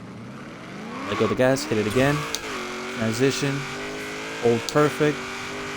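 A 1970 Chevrolet Camaro Z28 set up for rear-wheel-drive drag racing in Forza Horizon 3 revs and accelerates in repeated bursts, its engine note rising and dropping between throttle lifts, with someone talking over it.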